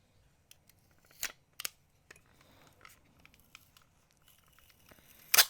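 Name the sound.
cutting a piece of tape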